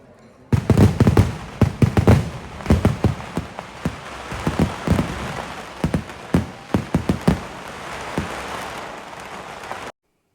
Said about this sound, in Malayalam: ഒരു അമ്പ് പെരുന്നാളാകുമ്പോൾ ഇത്തിരി വെടിക്കെട്ടൊക്കെ വേണ്ടേ